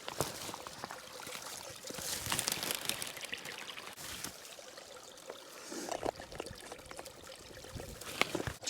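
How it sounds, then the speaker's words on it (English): Water splashes and trickles unevenly into a container at a wild camp in the Yorkshire Dales, with bursts of pouring and brief pauses, close by. "Just decant this water into here."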